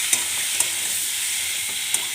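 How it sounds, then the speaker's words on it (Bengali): Two eggs are stirred into a curry frying in a pan, giving a steady soft sizzle with a few light scraping clicks from the spoon, close and without speech. "ডিম দুটো দিয়ে একটু নাড়াচাড়া করি"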